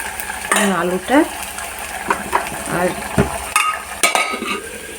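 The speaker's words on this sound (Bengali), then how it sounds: "মাংসটা রেখে মাংসটা একটু কষা কষা করে" Meat being stir-fried and browned in a pan for a Bengali potato, cauliflower and meat dish, with irregular scraping and clattering stirs and soft sizzling from close by.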